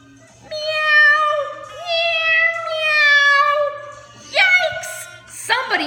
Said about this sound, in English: the cats begin meowing loud meows.